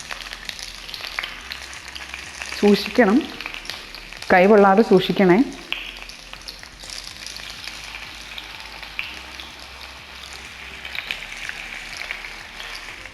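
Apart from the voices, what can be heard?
chicken wing pieces frying in hot oil in a pan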